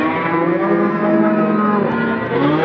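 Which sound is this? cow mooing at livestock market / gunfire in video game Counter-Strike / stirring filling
cow mooing at livestock market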